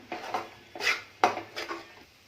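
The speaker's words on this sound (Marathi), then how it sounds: "एक पाकामध्ये खोबरा आहे ते ढवळून ढवळून घ्यायचा आहे" A spoon stirs grated dry coconut through thickening sugar syrup in a pan for coconut ladoos, making a few close, rhythmic scraping and clinking strokes against the metal.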